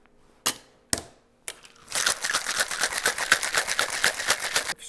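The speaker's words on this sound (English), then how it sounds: "And then we're gonna shake this up." A Peep martini being shaken hard in a cocktail shaker with ice, a few sharp knocks first, then a steady fast rattle of ice against the tin, close and fairly loud.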